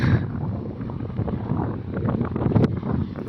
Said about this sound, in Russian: И ветер тут.